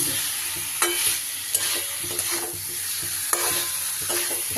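Boiled elephant foot yam and potatoes being stirred together in a pan, with a steady sizzle under repeated scraping strokes of a spatula and a few sharper knocks against the pan; no voices.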